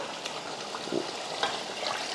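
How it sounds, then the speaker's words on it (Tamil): Water trickling and splashing into a cooking pot for chicken biryani, faint and close, with a few small clinks along the way. "இப்போ வந்து தண்ணி சேர்த்துக்கலாம்"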